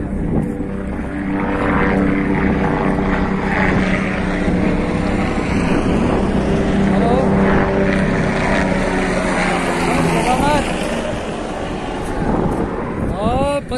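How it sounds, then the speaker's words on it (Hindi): A loud, steady roar of helicopter rotors and engines fills the scene continuously, with wind buffeting and a faint voice beneath, as helicopters fly overhead on the Kedarnath pilgrimage route. "जो हेलीकॉप्टर उड़ रहे हैं"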